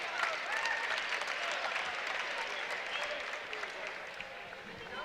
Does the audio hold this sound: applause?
yes